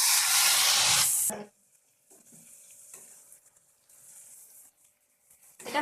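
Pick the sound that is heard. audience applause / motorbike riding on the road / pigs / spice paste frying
spice paste frying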